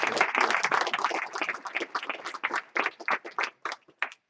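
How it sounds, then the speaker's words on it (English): An audience at a business bootcamp event claps, starting as dense loud applause and then thinning into scattered individual claps that fade out toward the end. "Give them a round of applause."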